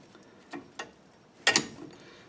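A ratchet works loose the bolts on a 2004 GMC Sierra 1500 brake, giving a few sharp, separate clicks close by, with one louder burst of ratcheting in the middle and quiet in between.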